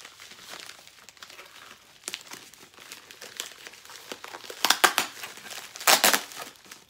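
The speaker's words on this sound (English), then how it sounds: "Sorry for the crinkles." Plastic packaging crinkles and crackles steadily, with louder crunching bursts near the end, close up and with no talking.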